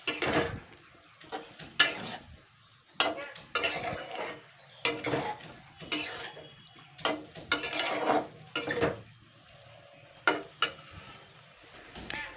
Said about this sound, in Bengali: আগে একটু 1 মিনিট নাড়াচাড়া করে নেব।